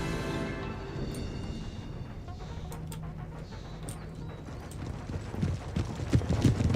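Cavalry hooves pound in a steady, busy gallop during an Empire: Total War battle as a Horse Guards unit rides past, a continuous rumbling clatter that swells louder toward the end.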